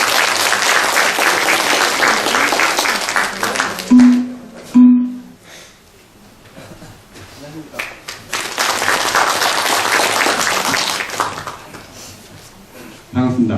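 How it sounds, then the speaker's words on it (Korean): An audience at a university fire-safety training session gives loud, sustained applause to welcome a speaker. The clapping breaks off in the middle, where a voice briefly speaks, and then swells again. "큰 박수로 환영해 주시기 바랍니다."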